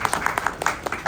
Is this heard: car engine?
no